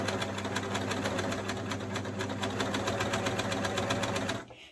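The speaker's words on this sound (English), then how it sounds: "So with this one, I'm going to begin to sew" An overlocker serger sews elastic, running at a steady, fast, mechanical chatter, close and even throughout, then stopping abruptly at the end.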